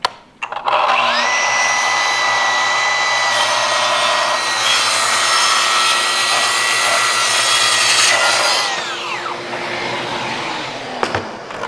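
A track saw rips through a wood board with a loud, steady whine and rough cutting grind lasting several seconds, then spins down as the cut ends.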